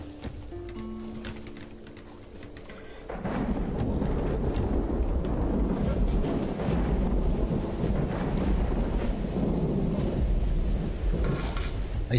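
Thunder in the video game Songs of Syx: a steady, loud low rumble rolls in after a quieter stretch of ambient game sound and holds for several seconds, with gusty windlike noise around it and no talking.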